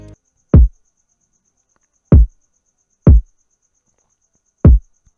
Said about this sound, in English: So this is how my kick sound like.